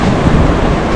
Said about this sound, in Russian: Такие вот маленькие-маленькие волны.